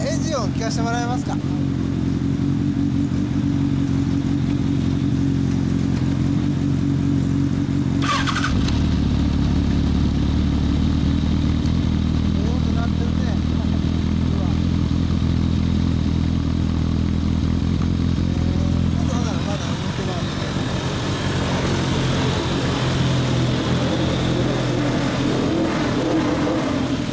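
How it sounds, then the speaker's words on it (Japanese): A 2013 Kawasaki ZRX1200 DAEG motorcycle with a BMS-R exhaust idles loudly up close, its exhaust rumbling and revving in several bursts, with people talking intermittently. "エンジン音聞かせてもらえますか？"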